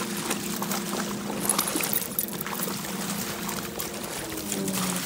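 Ocean waves wash ashore in a steady, close, continuous rush of churning water, fairly loud and unbroken.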